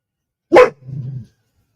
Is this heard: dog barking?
yes